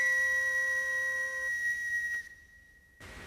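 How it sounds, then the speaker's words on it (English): A whistle is blown in one long, steady, shrill tone that holds for about two seconds, drops briefly, then carries on more thinly to the end, alone and close with no voices. "first I have to find my whistle"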